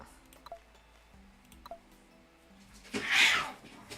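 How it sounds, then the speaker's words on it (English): Two cats fighting indoors: faint scattered ticks and small sounds first, then a sudden loud burst of hissing and snarling near the end, short and harsh, standing alone without talk. "Oh, cats are fighting."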